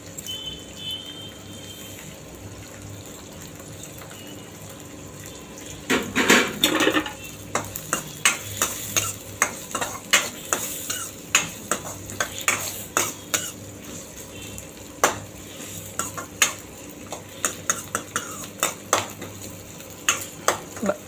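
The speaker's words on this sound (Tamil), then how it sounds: "கடாயில் எண்ணெய் ஊற்றி பெருஞ்சீரகம் போட்டு கருவேப்பிலை வெங்காயம் போட்டு வெங்காயம் வதங்கிட்டு இருக்குது" Onions with fennel seeds and curry leaves sauté in oil in a kadai, under a soft, steady sizzle. From about six seconds a ladle scrapes and clinks against the pan in repeated, uneven strokes.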